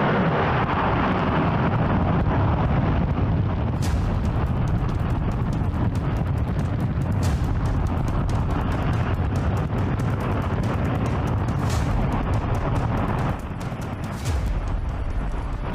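A J-2X rocket engine on a test stand fires in a continuous, loud, steady roar. The rumble holds without a break for the whole stretch, with a few sharp crackles rising above it.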